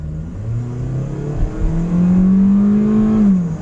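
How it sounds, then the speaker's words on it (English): A knocking car engine pulls hard in first gear, its loud rising drone climbing steadily toward redline before easing off near the end, heard close and alone with no voices. "We'll try to do a little bit hard acceleration in first gear."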